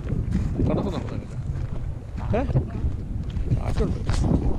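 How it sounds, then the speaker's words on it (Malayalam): Wind gusts buffet the microphone on a beach near Karratha, a rough, rumbling roar that runs throughout under people talking. "കാറ്റുണ്ട്."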